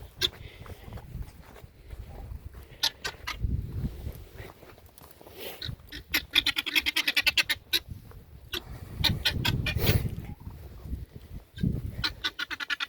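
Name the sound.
guinea fowl squawking while being chased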